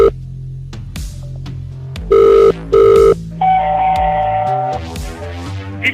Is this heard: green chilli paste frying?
no